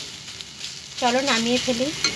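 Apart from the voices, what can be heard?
onions frying and sizzling in a pan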